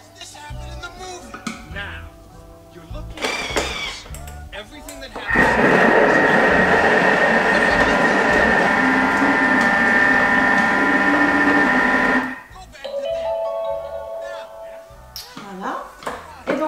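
Kitchen mixer blending marble cake batter, a loud steady motor whir running for about seven seconds and stopping abruptly, with quieter clatter and handling noises before and after.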